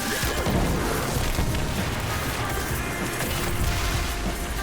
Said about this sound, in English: I don't think I got a precision shot just then.